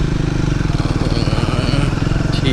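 A motorcycle engine runs close by while the bike is being parked. Its loud, rapid, evenly pulsing throb holds steady throughout.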